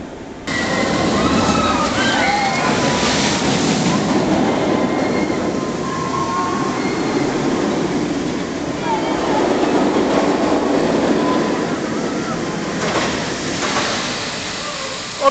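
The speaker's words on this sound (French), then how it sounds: "il y a le train qui passe" A roller coaster train at Port Aventura theme park rumbling past at a steady distance, a continuous rolling roar with splashing water nearby that swells and fades over about fifteen seconds, with no speech.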